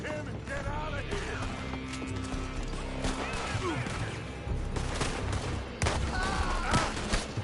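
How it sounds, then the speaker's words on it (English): Gunfire crackles through a chaotic Red Dead Redemption 2 shootout, scattered shots amid horses, shouting and dense background noise, with people speaking throughout. "They're shooting from that building."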